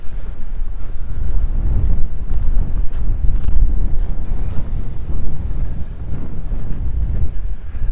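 Strong, steady wind buffets the microphone on a snowy creekside walk, a loud continuous low roar with gusty surges and no speech.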